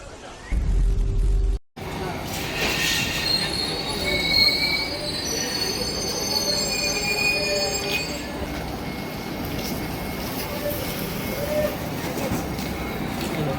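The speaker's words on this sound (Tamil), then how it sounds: "இப்போ அடுத்தது ட்ரெயின் இன்னும் கொஞ்சம் நேரத்தில் வந்துடும்." Train arriving at Vriddhachalam Junction in India, its wheels squealing in long high-pitched whines over a steady rumble of railway cars, after a brief burst of noise at the start; people talk faintly underneath.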